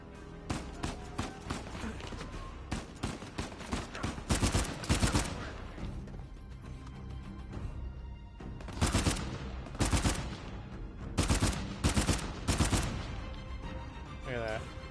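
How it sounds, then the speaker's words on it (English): Video game gunfire on PS4 rattles out in repeated automatic bursts, loud and close, with gaps between clusters of rapid shots across the stretch. "I'm shooting my shit right now"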